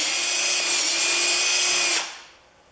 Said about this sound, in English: we cleaned off the bolts with the drill and the nut